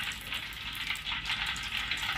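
Ham frying in hot oil in a pan over high heat, giving a dense, continuous hissing sizzle with crackling pops, close and loud throughout with no talking.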